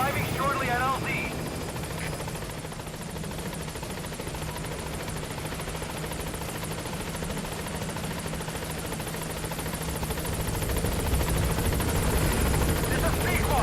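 The Pequod helicopter in a video game approaches a landing zone, its rotor a loud, continuous thrumming wash that swells toward the end, with radio-style voices talking over it.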